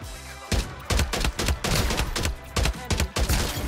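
AK rifle fire in the video game Farlight 84, several loud close bursts of rapid shots separated by short pauses, with no speech over them.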